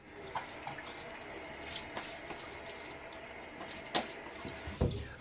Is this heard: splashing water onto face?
yes